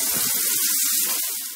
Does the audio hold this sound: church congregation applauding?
no